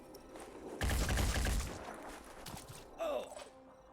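A burst of gunfire from a squad soldier in the tactical game Phoenix Point: a dense, loud volley lasting under a second, then trailing softer reports and a later sharp impact.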